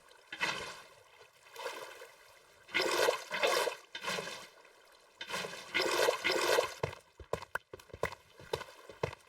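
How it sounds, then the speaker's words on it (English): Water poured from buckets in a blocky survival video game, splashing and flowing in repeated bursts, several gushing rushes separated by short gaps, ending in a few quick clicks, close and moderately loud without voices. "So we just need to place water buckets"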